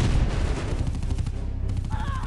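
Rapid, dense gunfire from an enemy attack in the strategy game Art of War 3, a loud continuous rattle of overlapping shots with booms underneath, and a brief synthetic tone near the end.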